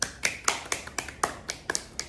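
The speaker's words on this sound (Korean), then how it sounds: "박수" Nine sharp hand claps in a steady, quick rhythm, close and crisp, with no talking.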